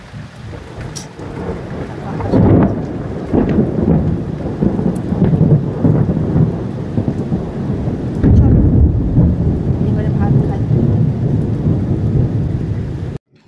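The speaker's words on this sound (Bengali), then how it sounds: "দেখো বৃষ্টি হয়ে গেল একটুখানি, দেখো কিরম বৃষ্টি হয়েছে" Heavy rain pours steadily during a hot-weather storm, with low rumbles of thunder rolling underneath, loud and continuous throughout; a person speaks briefly near the end.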